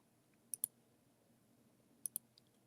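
A computer mouse clicks two times in quick pairs, two crisp sharp double clicks plus a faint extra tick, close and isolated against a very quiet room.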